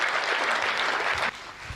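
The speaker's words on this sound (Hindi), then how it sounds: "थोड़ा तालियों का उत्सव कर दीजिए" Audience applause at a Hindi comic poetry gathering, a dense, steady wash of many hands clapping close and loud, ending abruptly after about a second and a quarter and leaving a faint low rumble.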